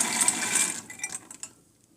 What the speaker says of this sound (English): So here I have 4 cups of black beans that have been soaked. And we are going to put this into our Instant Pot.